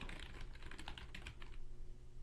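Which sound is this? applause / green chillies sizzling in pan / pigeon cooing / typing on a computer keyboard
typing on a computer keyboard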